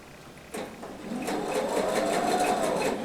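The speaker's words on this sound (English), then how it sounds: "just go ahead and just keep on sewing right through it" A sewing machine runs steadily while stitching quilt pieces butted together at a quarter-inch seam, starting with a click and a brief rattle, then a continuous close, moderately loud motor whir alone.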